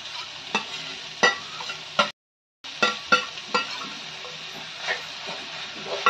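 Paneer bhurji stir-frying in a pan, with a steady soft sizzle and repeated scraping stirs at close range; there is a brief silent gap partway through.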